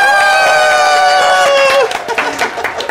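A studio audience applauds and cheers as a guest is welcomed on a Spanish-language TV show, loud clapping and whoops swelling under bright music that fades out partway through.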